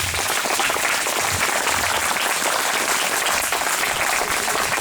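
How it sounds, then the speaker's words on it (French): Congregation applauding priests and a deacon at a church anniversary celebration for a priest's 60 years of priesthood; steady, dense clapping fills the whole stretch at even loudness without talk. "Applaudissez-les."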